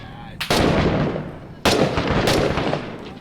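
Two loud, sharp gunshot blasts in the video game 6 Days in Fallujah, each trailing into a rumbling echo, with a fainter crack after the second.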